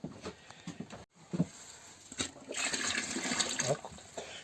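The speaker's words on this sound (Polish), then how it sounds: "musimy dolać teraz do tej brzeczki wody" Water poured into honey wort while making three-part mead, a broad splashing, pattering stream that swells after a couple of seconds of softer handling noises and continues steadily to the end.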